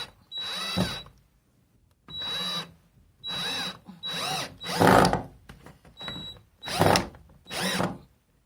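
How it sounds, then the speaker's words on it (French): A power drill driving screws into hard, dense wood while fitting a corner wall shelf, several separate loud whirring bursts that strain as each screw bites, with short pauses between them. "je viens visser les vis"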